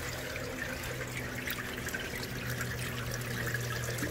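Flood coolant from a surface grinder's system flows and trickles into the troughs, a continuous close splashing wash with a steady low machine hum underneath.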